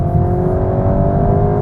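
VW Golf GTI Clubsport 45 hot hatch accelerating, its engine revving in a steady, loud, sustained drone heard from inside the car, with no talk over it.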